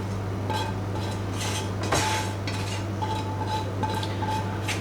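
A spoon scrapes and clinks against a pot while lasagna sauce is mixed, with one sharper knock partway through over a steady low hum, close and without talk.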